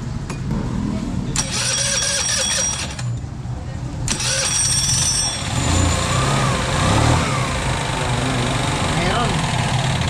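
A car engine with a noisy belt tensioner runs steadily close by, a continuous low rumble with a whining edge, while people talk over it throughout.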